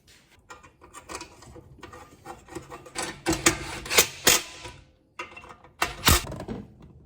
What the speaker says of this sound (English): why is this bloke using a file?